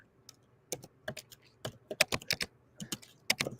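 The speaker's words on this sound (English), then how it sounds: "I hear you typing away at trying to figure that question out." Typing on a computer keyboard during a live online broadcast: quick irregular clusters of sharp key clicks, close and fairly quiet, with brief pauses between bursts and no voices.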